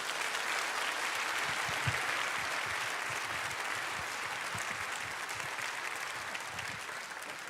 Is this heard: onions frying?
no